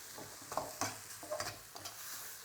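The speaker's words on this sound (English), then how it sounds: "I'm just going to bring this up to a heat now and let it sizzle a little bit." Char kway teow with bean sprouts sizzling and being stirred in a hot pan, with irregular scraping and tossing bursts over a steady frying hiss, close and moderately loud, no talking.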